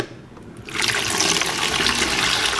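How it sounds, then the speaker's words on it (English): Water pours into a bucket for mixing alginate, starting quietly then swelling into a loud, steady gushing splash that continues to the end, with no voices. "What we're going to do is we're going to pour in the water first."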